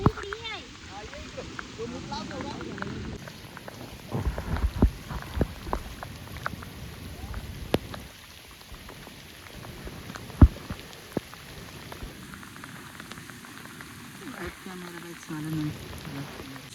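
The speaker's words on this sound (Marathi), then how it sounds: "पावसाचा जाम मोठा जोरान आले पाऊस" Heavy rain drums steadily on a surface nearby, a continuous hiss with scattered sharper drops, while someone talks over it at times.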